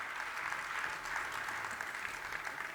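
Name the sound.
audience clapping at a sermon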